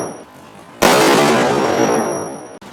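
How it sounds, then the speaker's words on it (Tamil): A mini-size firecracker bomb goes off in one sharp, loud blast, close to the microphone, followed by a roaring, slowly fading rumble that cuts off abruptly. "பாமோட சவுண்டு நீங்கள் கேட்டிருப்பீங்க"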